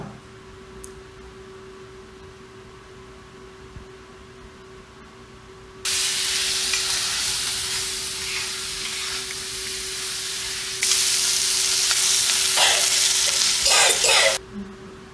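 Chilli and turmeric powder hit hot oil in a pan for a kingfish curry. A loud, steady sizzle starts partway in, grows fiercer as the mixture is stirred, then cuts off just before the end.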